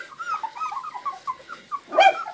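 A puppy whimpers in a string of short, high, wavering whines, quiet and close, ending in a louder, fuller whine; no talking.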